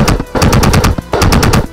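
A Lancer Tactical MMC recoiling airsoft AEG fires full auto in loud close bursts, three rapid strings of clattering shots separated by short pauses.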